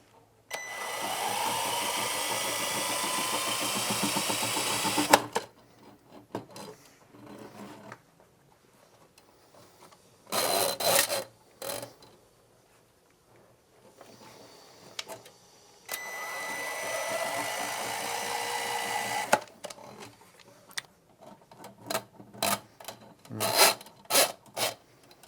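Power drain auger spinning a cable through a pipe, long grinding rasps of several seconds each separated by quiet pauses and shorter bursts, close and fairly loud.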